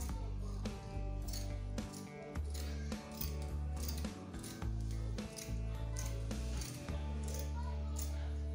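Scissors snip repeatedly through fabric while cutting out a kaftan dress, a steady series of close crisp cuts over a low background hum.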